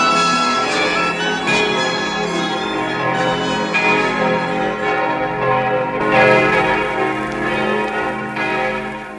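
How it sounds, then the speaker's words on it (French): Church bells peal in full swing, many overlapping tolls ringing continuously and loudly as a radio play sound effect for Notre-Dame in Paris, with no voices present. "les Parisiens s'éveillèrent au bruit de toutes les cloches, sonnant à grande volée"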